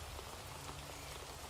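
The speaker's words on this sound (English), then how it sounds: "Through the sound of the rain, you hear nothing." Steady rain falls in a dense, even hiss with a low rumble beneath, continuous and unbroken, with no voices.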